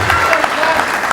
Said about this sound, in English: Rayleigh, let's give him a round of applause.